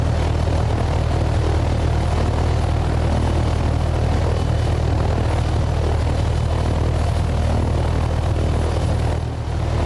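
A propeller aircraft engine drones loud and unbroken in flight within the video game DayZ on the Takistan map, a dense steady roar with no talk over it.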